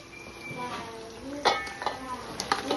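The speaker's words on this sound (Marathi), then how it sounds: "झणझणीत अशी आपली चिंबोरी फोडणीमध्ये उतरलेली आहे" Crab sizzles in hot spiced tempering in a pan for crab biryani while a utensil stirs and scrapes, with a few sharp metallic clinks; a voice murmurs faintly in the background.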